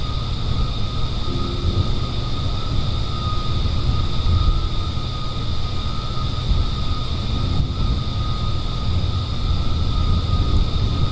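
Aircraft rolling down a runway in Kerbal Space Program, a steady broadband engine roar with sustained tonal whine that holds evenly loud throughout, no voices.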